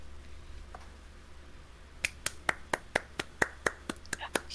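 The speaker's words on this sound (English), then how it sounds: "That's me clapping." One person claps their hands about a dozen times in an even rhythm, sharp and close in a quiet room, after a faint stretch of near-silence.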